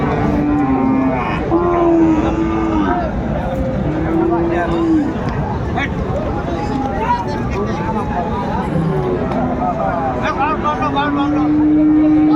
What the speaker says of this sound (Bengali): যে গরুগুলো বেচা কেনা হচ্ছে আমরা সে জায়গায় রয়েছি